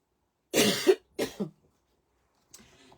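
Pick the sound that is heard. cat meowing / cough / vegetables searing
cough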